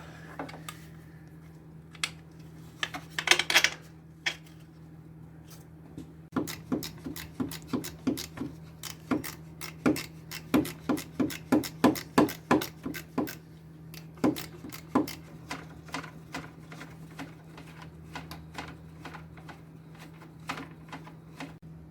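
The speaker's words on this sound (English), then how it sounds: "Reinstall your upper housing bolts. Get them both in there, and then we'll tighten them up." Bolts on a Ford Focus power steering pump housing being tightened with a 1/4 inch ratchet, a close, rapid run of sharp metallic clicks that comes in uneven bursts over a low steady hum.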